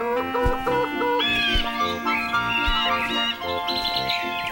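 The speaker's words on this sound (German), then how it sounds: "Und noch mehr Vögel." Birds chirp and tweet in a bright, continuous chorus over a musical backing, with busy overlapping calls and a few clucking fowl-like notes, heard alone with no talk, in an animated Bible-story telling of creation.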